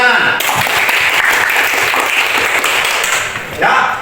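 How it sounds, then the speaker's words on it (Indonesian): A class in a Catholic religious education lesson breaks into applause, a loud, close burst of many hands clapping steadily for several seconds before briefly dipping and resuming. "Tepuk tangan."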